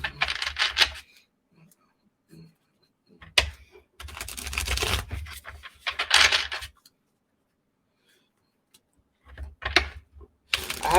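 A crisp, little-used Cosmic Tarot deck being shuffled, with bursts of riffling, snapping card noise broken by quiet pauses and a few sharp taps, close up and with no talking.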